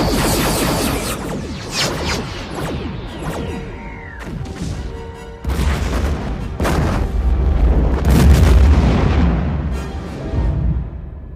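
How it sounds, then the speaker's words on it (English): Weapons fire strikes a planet's surface in an EVE Online news-style cinematic: a sequence of heavy booms, crashes and thudding impacts with rising whooshes, some blasts close and loud, others rolling on behind. "Firing at the surface."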